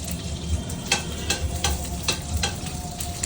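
Green chillies fry and sizzle in a hot pan on a home stove, a steady close crackle broken by a few sharp spits and stirring scrapes, with no voices.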